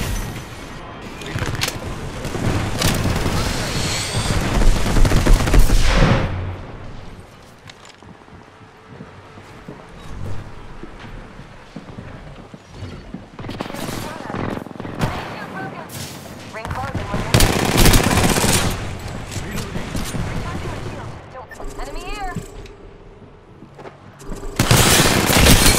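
Gunfire in the Apex Legends video game comes in several loud bursts of rapid automatic shots separated by quieter gaps, with game sounds and voices heard between the volleys.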